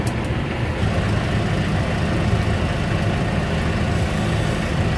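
Steady, loud low engine rumble and mechanical drone of a Gleaner S98 combine harvester as its unloading auger swings in by remote, continuous with no talking.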